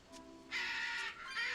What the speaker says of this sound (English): Shut up, you stupid birds.